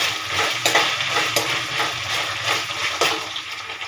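Chicken masala with curry leaves frying in a pan, stirred with a spoon: steady sizzling broken by several sharp scraping strokes at a loose rhythm, close and fairly loud.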